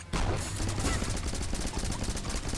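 Shotgun fire in the co-op game Rocketbirds: Hardboiled Chicken, a dense, continuous barrage of blasts overlapping one another at close range, with a faint voice mixed in.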